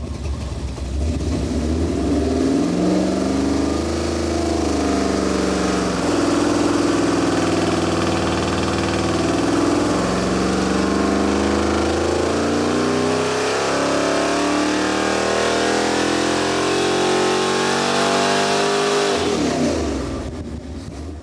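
A 409 V8 engine with competition headers revs hard on a dyno and climbs in pitch under load, sweeping up and down for a long, loud run before cutting off near the end.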